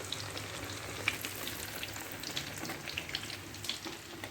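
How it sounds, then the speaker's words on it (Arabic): Eggplant frying in oil gives a soft, steady sizzle with faint crackles and pops, continuous and close, with no voices. "هانتوما كتشوفوا منين قلاه داك البودنجان"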